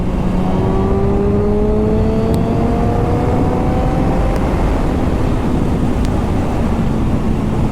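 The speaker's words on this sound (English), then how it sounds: "I'm just gonna roll onto the throttle, and it's not really gonna feel that exciting, but it does feel fast though." A Yamaha R6 motorcycle accelerates as the throttle is rolled on, its engine note climbing steadily in pitch through a continuous rising whine, heard from the rider's position over heavy wind rush.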